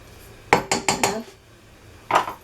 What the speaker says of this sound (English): I'm just going to scrape all that off